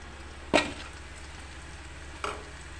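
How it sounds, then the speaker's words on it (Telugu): Fenugreek leaves stirred into a frying tomato curry, a faint low sizzle broken by two short scraping clatters of the spoon against the pan. "ఇప్పుడు ఈ మెంతు కూడా వేద్దాం"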